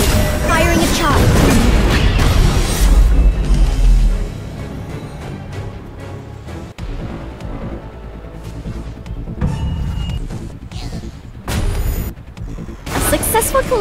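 A charge fired in the action game Solo Leveling: Arise, a heavy booming blast up front with rumbling impact, then lighter combat hits and pops. Voices speak over parts of it.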